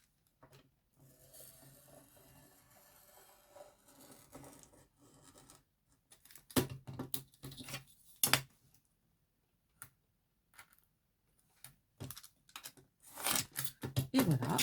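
Scissors cut through laminated plastic sheet for a box, with quiet rustling handling at first, then sharper, closer snips and crisp tearing-like cuts coming in irregular bursts toward the end; no one speaks.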